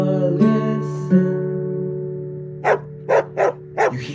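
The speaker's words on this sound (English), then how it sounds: "It's the dog, el perro." A dog barks four times in quick bursts near the end, following a sustained tonal background with brief higher calls at the start; the barks are clear and close, with no talking over them.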